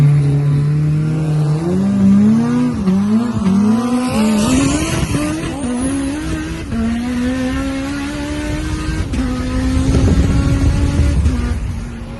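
A tuned Mitsubishi Evo street car engine revs hard toward 10,000 RPM and climbs steadily in pitch, loud and close, with a throaty, sustained roar that rises through the gears.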